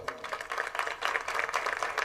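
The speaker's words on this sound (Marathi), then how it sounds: "त्यांच्यासाठी टाळकर यांनी टाळ्या वाजव." An audience at a kirtan gathering claps together in a steady, dense burst of applause, filling the space evenly from start to finish.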